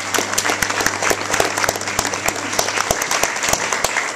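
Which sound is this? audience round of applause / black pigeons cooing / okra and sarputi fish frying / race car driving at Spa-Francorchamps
audience round of applause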